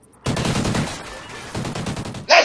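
Rapid automatic gunfire from another player in Call of Duty: Ghosts, two loud sustained bursts separated by a brief lull, close and dominant with no voices over it.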